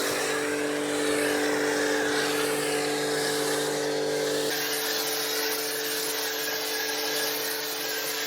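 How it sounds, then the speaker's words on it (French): A foam cannon sprays prewash foam onto a car, giving a loud, steady hissing spray over a constant mechanical hum. Partway through, the hum stops and the spray continues alone, slightly brighter. "je commence par le prélavage avec le canon à mousse"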